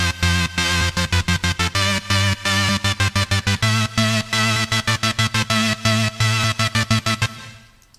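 A Sylenth1 synth preset from a WA Production sample pack plays a fast, loud, rhythmic gated chord pattern of steady repeated stabs for about seven seconds, then cuts off and fades, with no voices.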